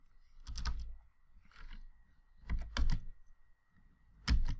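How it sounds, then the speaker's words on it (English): Computer keyboard typing a command, several short clustered bursts of key clicks separated by pauses, close and fairly quiet. "I'm going to type here sudo"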